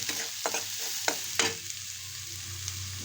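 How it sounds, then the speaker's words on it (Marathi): Turmeric, red chili powder and black spice mix sauté in hot oil in a pan, with a soft sizzle under several sharp scraping strokes of a spatula in quick succession. "चांगलं परतून घेणार आहोत."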